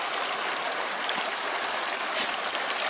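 A river on a permaculture farm flows steadily in a dense, even rushing wash of water, close and continuous with no voices.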